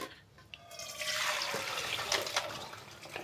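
Water from cooked beef pours through a strainer into a pot, a steady rushing splash that swells and continues for a few seconds, with no voices.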